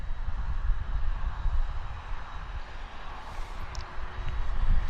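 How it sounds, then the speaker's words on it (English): Convair 580 turboprop engines run steadily as the aircraft taxis at Vancouver International Airport, a continuous low rumbling drone with constant loudness and no talking over it. "Our second 580 is taxiing right behind the FedEx"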